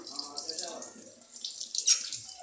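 Tap water runs and splashes over fish being rinsed in a sink. The flow is steady and close, with a faint voice in the background.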